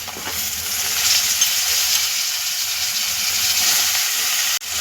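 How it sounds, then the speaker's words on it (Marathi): Potatoes frying in oil with spiced masala for a Marathi-style potato dish, a dense continuous sizzle and hiss up close, loud and even throughout, with no voices. "बटाटे टाकले हे व्यवस्थित असं फ्राय करून घेऊया मसाल्यांमध्ये सगळं।"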